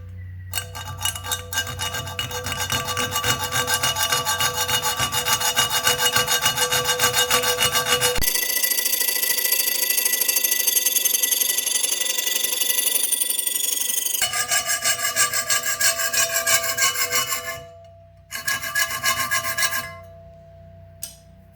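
A fine-tooth saw cuts through aluminum in long, steady back-and-forth strokes, a harsh metallic rasping that runs close and loud for most of the time, briefly pausing and resuming near the end.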